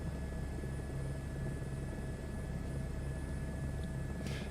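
Simulated helicopter on a Grand Canyon tour route in Microsoft Flight Simulator 2024, a steady droning engine and rotor hum with a fixed low tone, continuous and even, with a brief faint click near the end.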